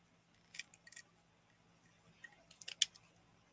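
Small scissors snip a miniature garden plant in a few quick, close bursts of sharp clicks separated by short pauses, with no talking.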